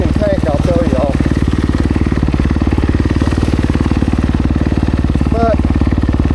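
A Kawasaki KX250X enduro motorcycle engine runs close and loud with a fast, even putter, holding steady throughout with faint squeaks over the top.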